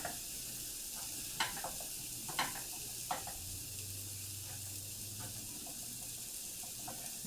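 A Denver omelet cooks in a pan, giving a steady soft sizzle with a low hum underneath and a few light clinks and scrapes scattered through.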